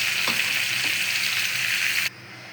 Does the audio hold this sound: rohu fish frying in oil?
yes